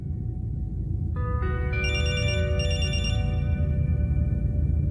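Phone ringtone of an incoming call: a bright electronic melody of stacked tones that builds over a low steady background rumble and keeps repeating, loud and close, with no voices.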